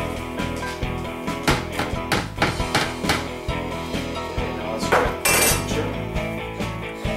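Beer mash stirred in a pot with boiling water for an Irish ale, a steady run of loud metallic clanks and scrapes of a spoon against the pot, repeated in uneven rhythm close up.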